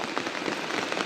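Monsoon rain falls steadily on potted adenium plants, a dense, even patter of drops hitting leaves and surfaces, close and moderately loud, with no one talking.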